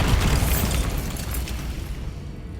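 A Bombarda spell explosion in Hogwarts Legacy: a loud, close burst at the start with crackling debris, decaying into a fading rumble over a couple of seconds.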